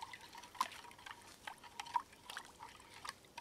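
Faint liquid drips and light clinks come from a prepared drink being stirred in a cup outdoors at night, scattered soft taps over a quiet background.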